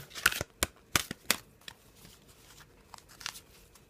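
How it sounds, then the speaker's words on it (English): Quick riffling bursts of cards being shuffled, a few sharp clustered flutters up close, then quieter handling sounds. "These are a really nice size to shuffle."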